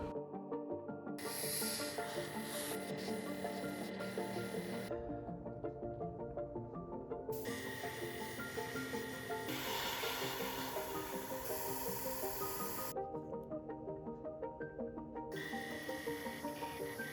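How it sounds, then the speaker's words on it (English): Grey primer coat airbrushed onto the wheel wells of a Su-27 Flanker scale model, with several hissing bursts of spray separated by brief pauses and a constant faint motor hum underneath, close and soft. "Grey primer coat for all wheel wells."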